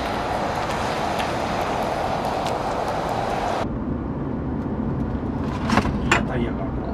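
A Toyota Granace minivan pulls away on a test drive, a steady road and engine rumble heard from inside the cabin under occasional faint clicks, with no clear talk.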